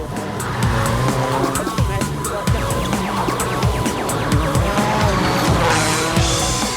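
A rally car slides and scrabbles on a dusty gravel stage at Rally de Portugal, its engine revving hard with tire noise and skidding. A commentator-style voice runs over the steady, loud action.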